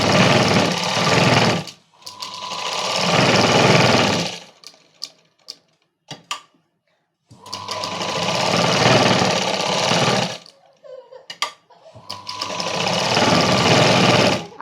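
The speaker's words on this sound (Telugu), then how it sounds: "ఈ సైడ్ కుట్టేసాం కదా, అదే విధంగా ఇటు కూడా మొత్తం కుట్ట అనేది వేసేసుకోవాలి" Sewing machine stitching a princess cut blouse, fast rattling runs in two long bursts with short pauses and handling clicks between them.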